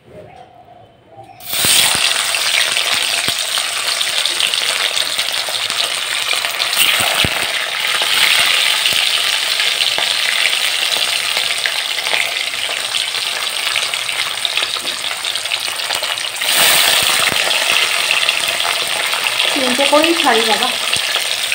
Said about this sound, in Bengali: তেল গরম হচ্ছে, ধোঁয়া উঠে গেছে গো। হ্যাঁ, আর এখানে দেব এই যে ভেটকি মাছ